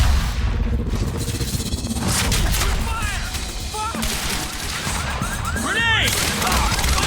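Rapid gunfire crackles through a chaotic Quantum Break shootout, loud, overlapping bursts and crashing impacts filling the scene, with voices shouting orders amid the shots.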